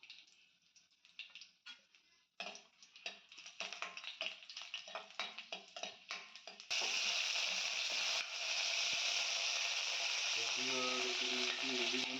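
Tempering spices and two dry red chillies fry in two spoons of oil in a kadai, starting with rapid crackling pops and then settling into a loud, steady sizzling hiss.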